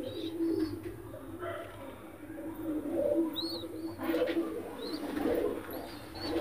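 A pair of Madrasi pigeons coo repeatedly in a steady, moderately close backdrop, with faint chirps and little talk.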